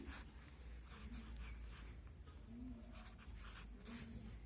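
Chalk or pen writing during a Hindi lesson for young pupils, heard as faint, repeated scratchy strokes in short bursts over a low room rumble, with no voices.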